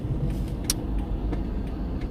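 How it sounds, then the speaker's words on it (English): Road traffic with cars rolling past, a steady low rumble of engines and tires under a brief sharper click, close and moderately loud, no speech. "Why is there so much traffic?"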